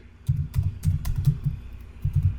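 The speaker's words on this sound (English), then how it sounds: "you can just type library" Keys tapped on a computer keyboard while building a training poster in PowerPoint, a quick burst of close clicks in short rhythmic clusters with a brief pause.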